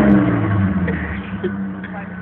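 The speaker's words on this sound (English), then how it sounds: "Give it one big rev" A car engine revs hard at close range, a low droning roar that stays strong and gradually eases over about two seconds. Muffled voices are faintly present.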